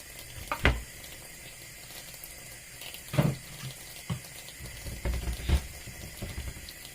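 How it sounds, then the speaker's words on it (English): Boiled water from a kettle is poured while cooking okro seafood soup with a little salt, heard as splashing, gurgling bursts of liquid over a low background hum, with several louder surges. "a little bit of salt, boiled water from the kettle."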